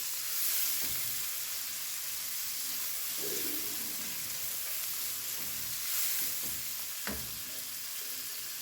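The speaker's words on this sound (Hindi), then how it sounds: "तो चलिए 4 से 5 मिनट इनको मैं रोस्ट करती हूँ।" Onions roast in a frying pan for a karela and chana dal dish, giving a steady close sizzle that runs throughout with a few soft stirring scrapes and clinks.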